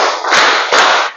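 A class of students claps a short rhythmic four-beat pattern together in a classroom. Two loud, dense surges of many hands clapping sit close by, alone, with no speech.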